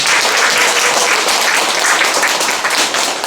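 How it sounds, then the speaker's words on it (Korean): Dense, loud applause fills the hall at a Korean literary award ceremony, a continuous even roar of many hands clapping close by, with no voices over it. "큰 박수 부탁드립니다."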